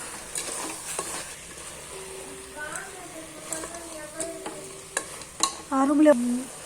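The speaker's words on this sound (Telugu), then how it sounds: "ఇప్పుడు బాగా కలుపుకోవాలి" A spoon scrapes and stirs chili powder and coriander powder into a chicken biryani curry in a pan. Soft, irregular scraping strokes run over a low sizzle, with faint voice-like tones in the background.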